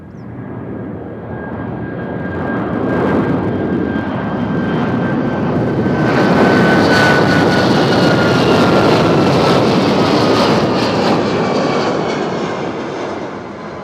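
Alaska Airlines jet departing Nashville International Airport on a quick takeoff bound for Seattle, a loud, steady engine roar that swells to a peak midway and then slowly fades as the aircraft climbs away, with a thin whining tone running through it.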